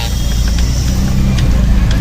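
A passing car makes a steady, fairly loud low engine rumble that holds throughout, with faint voices in the background.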